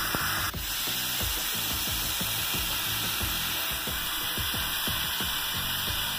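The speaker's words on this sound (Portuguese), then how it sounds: "Agora vamos deixar fritar mais um pouquinho" Beef steaks frying in a pan for bife acebolado, a steady loud hiss and sizzle close by, with a rapid crackle of popping fat throughout and one brief sharp knock near the start.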